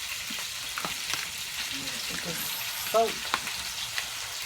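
Food frying in hot oil in a pan, chicken being sautéed for dinner, a steady close hiss of sizzling throughout with a few faint voice bits over it.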